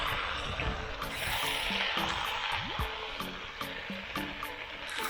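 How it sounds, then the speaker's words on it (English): Meat stew being stirred with a wooden ladle in a camp oven with oil, soft scraping and sloshing over a steady close sizzle, with faint intermittent clicks. "I'll just use a wooden ladle and give it a little stir."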